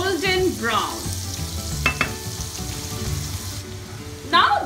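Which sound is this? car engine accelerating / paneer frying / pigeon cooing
paneer frying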